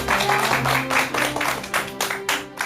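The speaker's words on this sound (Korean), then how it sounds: "큰 박수로 맞아주시기 바랍니다." A studio audience on a television talk show claps to welcome a guest, in rhythmic bursts of close, loud clapping over a faint steady musical tone.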